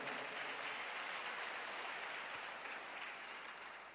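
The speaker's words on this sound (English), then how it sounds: "Let's give a good clap to all the men." Congregation clapping for the men at a church service, a dense, steady wash of applause from many hands filling the whole stretch, slightly fading toward the end, with no talk over it.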